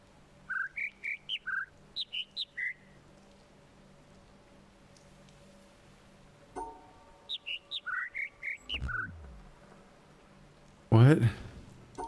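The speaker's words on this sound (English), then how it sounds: "Birds, you need to chill." Two in-game birds in The Witness sing bursts of bright chirping notes, one short run early and another later, with a voice talking in between and a sharp thump near the end.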